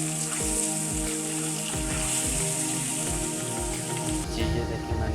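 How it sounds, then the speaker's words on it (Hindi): Eggs frying in a pan for an egg korma, a steady close crackling sizzle with scattered pops and spits throughout. "अब मैं इनको हल्का हल्का फ्राई कर लेता हूँ।"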